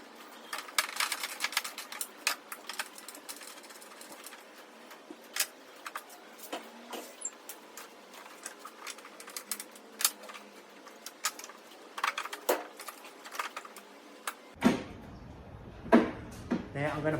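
A socket wrench removes door handle hardware with dense, irregular clicking and ratcheting up close. A few sharper knocks stand alone near the end.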